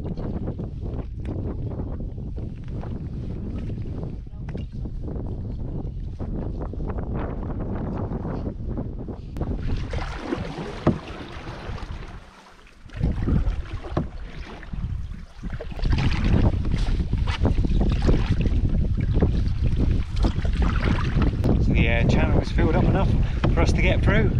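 Wind blows hard across an open lochside channel during a canoe trip, a constant rushing roar buffeting the microphone that strengthens in the second half, with a person talking at times.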